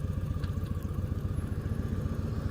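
Steady motorcycle engine drone on a cold-weather ride, a low rumbling throb that holds constant throughout with faint clatter and no voices.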